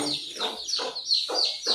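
Native desi chickens cluck nearby in a quick series of sharp, repeated calls, about five bursts in under two seconds.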